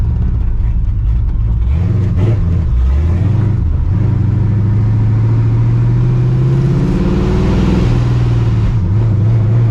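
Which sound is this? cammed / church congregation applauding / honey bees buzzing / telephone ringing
cammed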